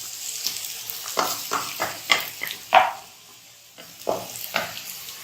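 Lightly browned onion sizzling in oil in a pan for chana dal with karela, with repeated stirring scrapes in short bursts through a soft frying hiss, fairly close and moderate in level.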